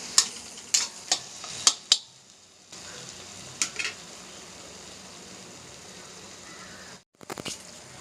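Masala being sautéed in a pan for chicken gravy, with a run of sharp spoon-on-pan stirring knocks over a faint steady sizzle, then quieter frying and a last burst of scraping.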